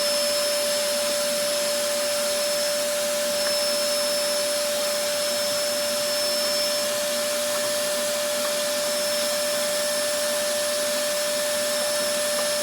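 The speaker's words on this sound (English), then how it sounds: "Sorry for the vacuum noise." A vacuum cleaner runs continuously nearby, sucking sawdust from a cigar box guitar build, a steady loud whine with a high tonal hum, without pause.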